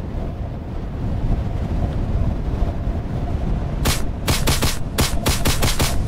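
Pistol shots ring out in quick succession in a first-person horror shooter, a burst of sharp loud cracks over a steady windy, rumbling game ambience.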